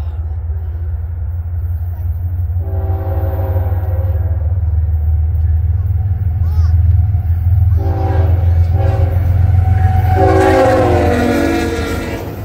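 A westbound freight train rumbles past loudly and close, its horn sounding in several short and long blasts over the continuous low roar of the railcars.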